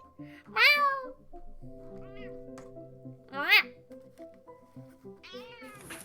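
A house cat meows several times, with drawn-out rising and falling calls close by. Quiet background music and soft room sounds run beneath the calls.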